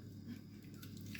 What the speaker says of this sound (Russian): хрустит перцем